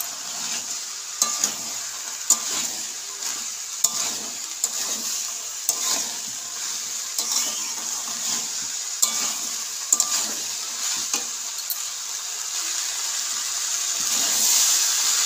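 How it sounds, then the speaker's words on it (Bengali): Ghugni ingredients frying with salt in a pan: continuous loud sizzle punctuated by regular spatula scrapes and knocks against the pan, a slow stirring rhythm over fifteen seconds, with no talking. "আমি 2 মিনিট ভালো করে ভেজে নিয়েছি"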